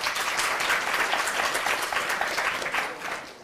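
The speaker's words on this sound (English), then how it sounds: "we'll get through more if we don't applaud the question" A university lecture-hall audience at a political Q&A claps steadily for a few seconds, the applause fading slightly at the end.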